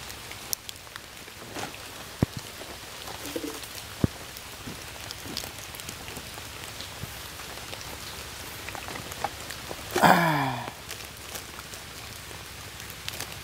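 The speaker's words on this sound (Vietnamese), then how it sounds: "mưa gió quá trời" Heavy rain with wind pours down steadily outdoors, a continuous hiss with scattered louder drops and a brief burst of louder noise partway through, no voices.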